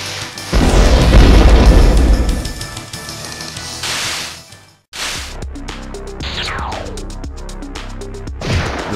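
A plasma bomb blows up in the 1998 Atlus video game Trap Gunner with a loud booming burst that fades and cuts to silence, followed by sharp game clicks and a falling synthetic whistle.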